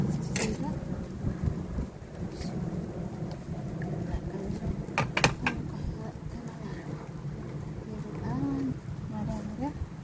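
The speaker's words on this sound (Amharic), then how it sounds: "ዝናብ እየዘነበ ነው።" Rain falls steadily with low rumbles of thunder, and people talk intermittently beneath the downpour.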